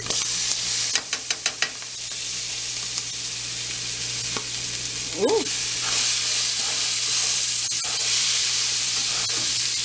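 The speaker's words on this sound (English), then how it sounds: "That bacon is popping." Bacon sizzling in a pan while Cajun shrimp is cooked, a steady bright hiss throughout broken by a quick cluster of sharp pops early on and scattered crackles, with brief faint vocal sounds.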